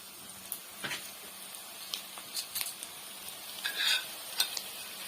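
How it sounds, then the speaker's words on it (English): Spices such as black pepper powder and red chilies being stirred into chicken korma in a pan: soft, irregular scraping and clinks of a utensil with a faint sizzle underneath, quiet and close. "So we will mix them inside."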